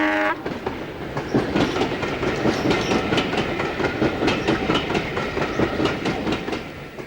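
A British Rail train hauled by a class 47 locomotive passes nearby at Margate in 1997. It is a loud, steady rumble with rhythmic clickety-clack from the wheels over rail joints, and no voices are heard.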